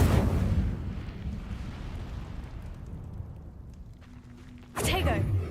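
A fiery burst erupts from an Incendio fire spell cast in the video game Hogwarts Legacy, loud at the start and fading into a crackling rumble, with a second sharp whoosh near the end; a voice speaks over it.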